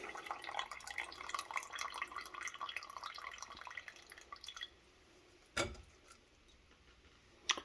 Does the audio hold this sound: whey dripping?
yes